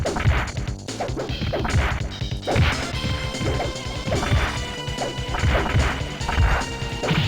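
Rapid hard punch and kick impacts land in a retro fighting video game, a dense, loud run of smacks and crashes repeating throughout with no talk over them.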